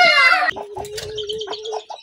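Desi hens clucking close by, with a sharp squawking burst at the start followed by softer, repeated clucks and a sustained vocal tone over a shed-like background.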